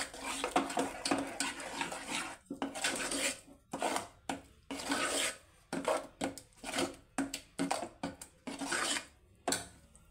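Spoon or ladle stirring dal mixed with salt and chili powder in a pot, giving repeated scraping and clinking strokes in uneven bursts with short pauses between them.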